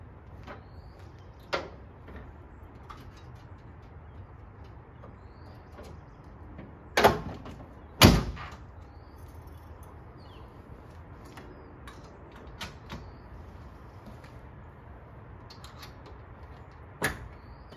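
A fibreglass hemi-scoop hood on a 1968 Dodge Dart comes down with two sharp, loud thumps a second apart, surrounded by quiet creaks and small scattered clicks.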